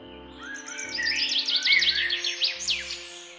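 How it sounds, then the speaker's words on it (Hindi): Birds chirp and twitter in quick bright bursts on a village morning, several overlapping calls fairly close and loud, over a low steady hum. "अगली सुबह पक्षियों की चहचहाहट और गांव की चहल पहल फिर शुरू हो गई थी"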